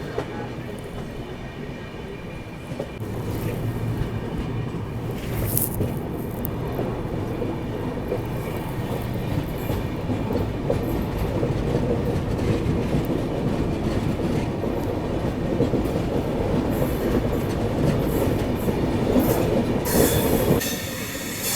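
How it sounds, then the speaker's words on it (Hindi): The LTT Mumbai–Haridwar AC Express rolls past alongside on the Kasara ghat section, a continuous rumble of wheels with rhythmic clickety-clack and occasional squeals, fairly close and steady throughout. "बगल से ये निकल रही है LTT Mumbai Haridwar AC express."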